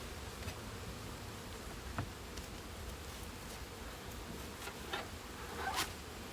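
Honey bees hum faintly and steadily as a double nuc bee box is opened, with scattered rustling and scraping of the box and frames, and a few louder buzzy passes near the end.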